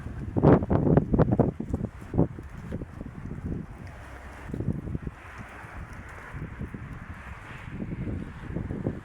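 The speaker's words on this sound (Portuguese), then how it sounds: "Deus fazendo o vento empurrar as folhas." Wind gusting through leaves outdoors near a cemetery, a steady airy rustle with a few louder bursts of buffeting at the start and again later, fairly close to the microphone.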